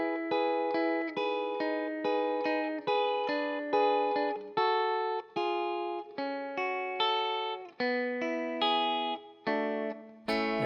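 Guitar chords played with hybrid picking, pick and fingers together, with about twenty crisp plucked attacks in a steady rhythm that ring clearly and close with no voice.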